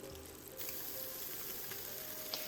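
Oil sizzles and hisses steadily in a hot pan as an egg is cracked in for chow mein, with a brief crackle near the end and no voices.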